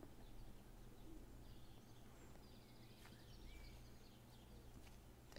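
Birds call and coo faintly in an open outdoor setting in the video game Everybody's Gone to the Rapture, soft scattered chirps over a low steady ambient hum, with no one talking.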